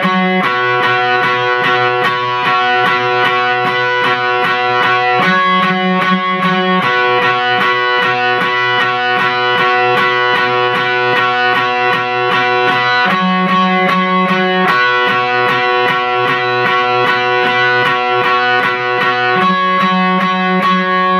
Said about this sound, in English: The electric part in the chorus sounds like this.